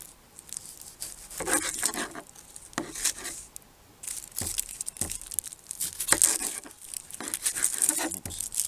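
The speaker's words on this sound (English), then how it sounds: "got a couple of cooking onions here. Just going to cut the ends off." Knife slicing the ends off cooking onions at an RV campsite in Ontario, a series of close crisp cuts, crackles and papery rustles of onion skin in short bursts.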